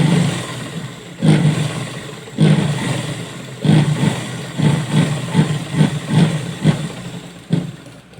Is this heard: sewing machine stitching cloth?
yes